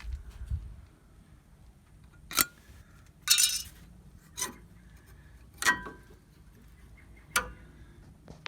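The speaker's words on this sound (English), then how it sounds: "So go ahead and pull these clips out." Metal brake pad clips are pried out of the rear brakes of a 2014 Ford F-150, giving a handful of sharp, quiet clinks and clicks spaced a second or so apart over a low background.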